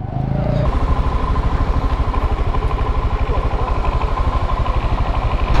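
A Royal Enfield Himalayan motorcycle rides along at steady speed, its single-cylinder engine thumping in a fast, even rhythm close to the microphone after a brief idle at the start.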